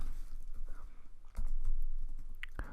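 Keys clack on a computer keyboard on a Kali Linux machine, a brief burst of close, uneven typing with a few sharper clicks standing out, with no voices.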